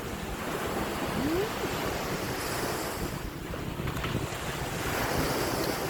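Sea waves wash in while wind buffets at Jomtien beach, a loud, continuous roar of surf and blustery wind noise with no voices.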